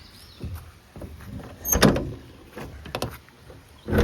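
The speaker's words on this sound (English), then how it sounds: "open the windows, and that starts with the back door" The back door of a bus parked in a forest slides and clunks open with a few scraping, rattling bumps and a final knock, close by and fairly quiet.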